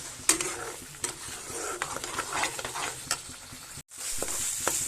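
Prawn chutney sizzles in a pan over high flame while a spatula scrapes and stirs it in repeated strokes, close and fairly loud, with a brief dropout near the end and no talking.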